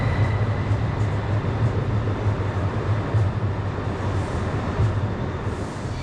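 A steady, loud roar of a Spanish Talgo S106 Avril high-speed train running at speed, with a constant rushing rumble and no breaks.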